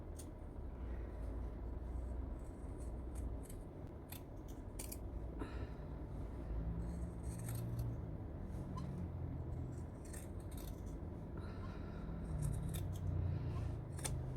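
Scissors snip through herringbone tape along a jacket neckline, a quiet run of crisp, irregular cuts over a soft low background rumble, with no voices.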